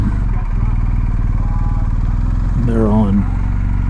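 Dirt bike motorcycles idle steadily beside a small river, a continuous low engine hum with a brief rising rev near the end, while someone talks over it.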